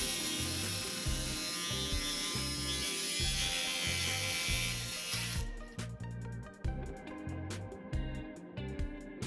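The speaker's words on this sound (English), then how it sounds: "Reposition the saw and finish the cut starting from the inside contour of the fender." Power saw cutting through the plastic fender of a 2017-2018 Ford Super Duty, a steady high buzzing whine for about five seconds, then broken into short stuttering bursts as the blade works the inside contour, with a low rhythmic rumble underneath.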